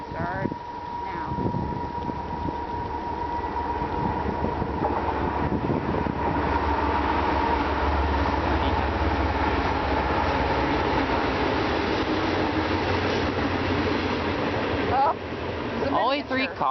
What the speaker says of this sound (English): After seeing the shortest freight train I ever caught on camera